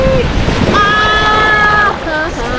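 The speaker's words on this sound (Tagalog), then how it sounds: "ang lakas ng alon talaga" Loud, broad rush of surf crashing close by, mixed with wind buffeting the microphone, while an excited voice cries out over the roar.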